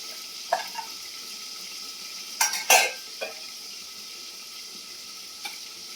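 Poppy seed spice paste with chili powder, dried red chilies and salt fries in a pan, a steady soft sizzle broken by a few sharp clinks and scrapes of a utensil stirring against the pan, with no voices.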